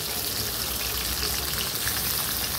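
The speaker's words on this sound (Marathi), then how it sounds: "आता बघा आपली तेलात सोडल्यात वांग." Stuffed eggplants sizzle in hot oil in a pan, a dense, steady crackling hiss close by that continues evenly without pause.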